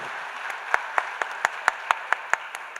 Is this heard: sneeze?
no